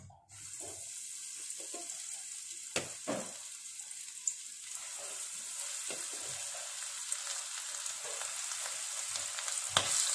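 Broast-mix chicken fries in hot oil with a steady, close sizzle that swells slightly over time, dotted with occasional sharp clicks and clinks of utensils.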